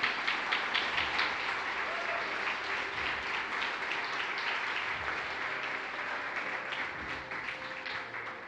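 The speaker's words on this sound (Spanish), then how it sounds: "Dale un fuerte aplauso a la palabra de Dios." Church congregation gives sustained applause, a dense, steady clapping from a large crowd that fills the room and slowly tapers toward the end.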